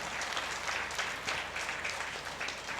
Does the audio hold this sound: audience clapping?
yes